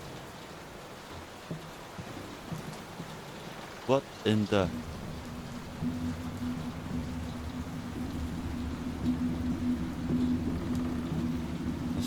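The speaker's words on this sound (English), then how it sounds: "Will this storm ever run out of rain?" Steady rain falls inside a mansion during a storm in the horror game Layers of Fear, a constant hiss throughout with a brief burst of other sounds and a short spoken exclamation partway through.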